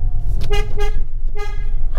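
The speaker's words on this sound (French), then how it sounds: "Je voulais voir le bruit du klaxon de la 500 électrique." Electric Fiat 500 car horn giving two loud, short toots close by, with a brief gap between them, heard over steady road and cabin rumble.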